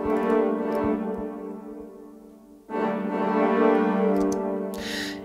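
A cinematic brass sample section plays sustained chords that double a choir part, holding one chord, changing to a new swell partway through, and ending with a brighter burst.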